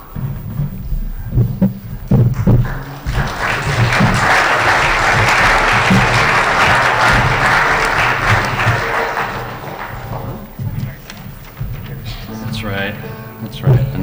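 Audience at a live music performance breaks into loud, sustained clapping that peaks mid-way and then tapers off, with voices heard before and after the applause.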